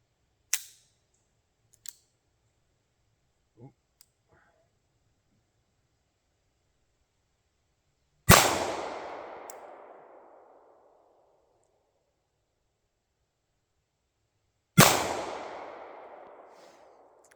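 A small .38 derringer pistol fires two sharp, loud outdoor shots several seconds apart, each ringing out with a decaying echo, preceded by a few faint clicks and handling noises.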